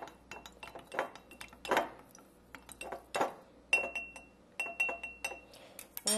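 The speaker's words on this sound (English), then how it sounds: "So I'm going to take that, give it a good stir" Glass jar clinking repeatedly as a utensil stirs an herbal sleep balm mixture with clary sage, a run of bright, irregular taps and scrapes close up, with a few sharper rings near the end.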